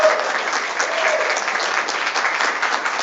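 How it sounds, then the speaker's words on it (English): Steady applause from a room full of people at a gaming expo panel, dense clapping that holds at an even level throughout with no voices standing out. "let's give these guys a round of applause"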